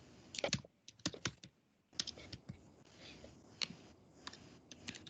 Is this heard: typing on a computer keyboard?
yes